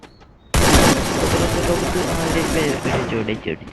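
Rapid automatic gunfire erupts suddenly in the battle game Free Fire, a loud continuous burst of shots that keeps going for several seconds before thinning out into scattered reports.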